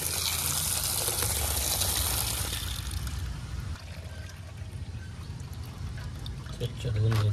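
Water pours and splashes steadily over crabs and prawns being washed clean by hand, loud and close at first, then easing into a softer running trickle with a brief surge near the end.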